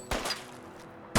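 Two short bursts of gunfire in Fallout London, a sharp shot at the start and another at the end with quieter ambience between.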